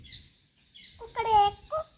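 A voice imitates a rooster crowing in a few short, high, wavering calls separated by pauses, close and fairly loud.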